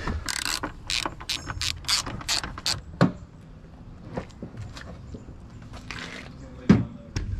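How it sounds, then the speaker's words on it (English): Mechanical clicks, ratcheting and clunks while the door is being removed from a Nissan 240SX S13; a quick burst of ratchet-like clicking comes first, then scattered knocks with a sharp thump near the end. "Well, we're gonna have to take the door off."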